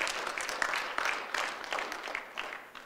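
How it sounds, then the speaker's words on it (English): A church congregation applauds, a scattered wash of clapping that swells and fades in uneven bursts at a moderate distance, with no one speaking. "Let's clap for Jesus."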